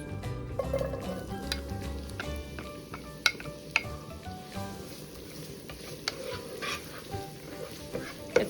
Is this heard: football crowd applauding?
no